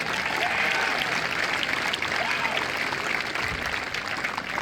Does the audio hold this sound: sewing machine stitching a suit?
no